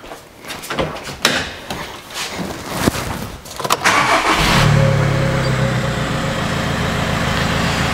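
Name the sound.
2009 Audi A3 diesel engine starting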